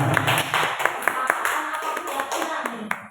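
Classroom of pupils doing a patterned rhythmic clap, sharp bursts of many hands striking in quick sequences with short pauses, close and lively, with faint voices in the room.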